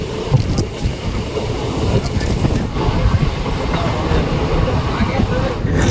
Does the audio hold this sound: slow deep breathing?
no